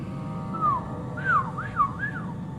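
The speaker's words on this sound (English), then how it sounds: "How bad is it when I whistle into this mic, by the way?" A person whistles into a microphone: four short sliding whistled notes, the first falling, then three quick rising-and-falling swoops, close and clear over a low background rumble.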